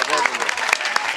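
A crowd of supporters claps at a late-night political rally, with a dense, continuous patter of applause that has a few sharper individual claps standing out. Voices are mixed in with the clapping.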